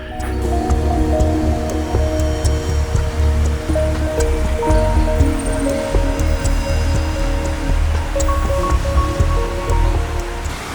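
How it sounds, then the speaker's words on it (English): Beaver Creek rushing down through Louis Ravine near Witch's Hole Falls, a loud, constant wash of flowing water heard close by with no one speaking. "that's Beaver Creek. So it's actually flowing down"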